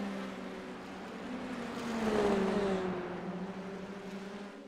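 Indy Lights race car in a racing video game sweeping past with a rising, then fading engine whine that peaks mid-clip, with a steady engine drone throughout and no talk.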